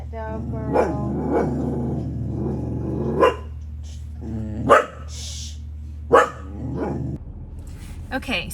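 Close, loud barks from a dog come in repeated bursts mixed with low growling over a constant low hum, while a person talks briefly.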